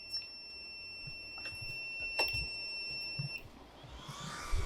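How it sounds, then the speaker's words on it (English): A server power supply failure alarm: high electronic tones sound steadily for a few seconds, then stop, with faint clicks and background hum around them. "it beeps at you really loudly to tell you things are failing"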